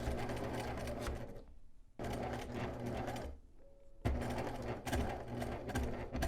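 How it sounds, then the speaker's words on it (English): Close, loud bursts of a sewing machine running in three spells separated by brief pauses, stitching a channel along the edge of a fabric face mask to hold the ear loops. "we're going to sew close to the edge here on the outside, and that'll make our channel for our ear loops"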